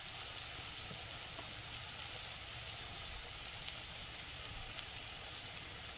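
Turmeric and other ground spices frying in hot oil, a soft, steady sizzle and hiss that stays faint and even throughout, with no voices.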